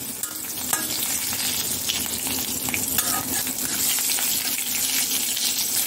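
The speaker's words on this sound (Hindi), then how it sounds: "बस 2 मिनट ये हरी मिर्च को भुनेंगे हम फ्रेंड्स।" Green chillies and dried red chillies sizzle in hot oil with steady, dense crackling and frying noise, close and continuous, with faint stirring and no talking.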